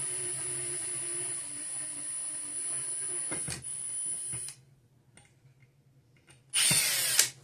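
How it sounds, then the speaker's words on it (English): A small power drill with a tiny bit boring a hole, a steady high whine for several seconds that cuts off, followed by quiet and a brief second burst of drilling. "Get yourself a little tiny drill bit."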